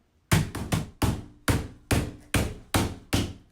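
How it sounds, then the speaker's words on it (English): A mallet strikes a partridge cage section into place, nine sharp close knocks, some in quick pairs and the rest about half a second apart, each ringing briefly before the next. "Come in with your mallet again for the final"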